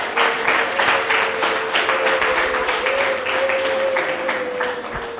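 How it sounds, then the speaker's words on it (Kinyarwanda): An audience applauds at a commemorative event for genocide survivors, with dense, continuous clapping that stays loud and even throughout, and a steady held tone running underneath. "tumugomba mu ntiza amashyi tubanze tumushimire"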